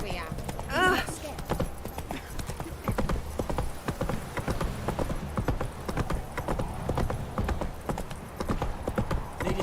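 Roach the horse in The Witcher 3 clip-clopping at a walk, steady close hoofbeats with a short whinny at the start, under people talking.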